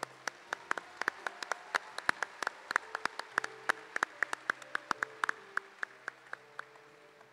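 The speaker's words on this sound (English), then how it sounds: "How about another round of applause for Isabel?" A small audience at a breed champions parade gives a round of applause, heard as sparse, distinct individual claps in an uneven rhythm over a quiet room.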